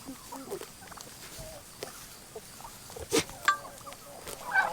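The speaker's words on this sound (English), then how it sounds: "this is our little flock of Spanish turkeys we have here" A small flock of Spanish turkeys makes scattered gobbles and calls at moderate distance, irregular and fairly quiet, with brief louder bursts amid farmyard background noise.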